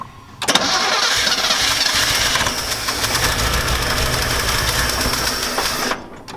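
A Chevy TBI engine with an HEI distributor cranks, fires and runs roughly, with the timing set to zero and the engine backfiring. A loud, uneven mechanical clatter follows the start, then cuts off sharply near the end.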